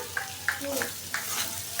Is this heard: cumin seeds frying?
yes